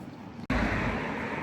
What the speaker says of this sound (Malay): Angin kuat nak mati lah.